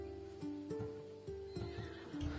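A horse whinnies repeatedly in Assassin's Creed Odyssey, a Thessalonian breed at a stable trader in ancient Greece; the calls come close and clear over a low in-game hum, with faint hoof clops between them.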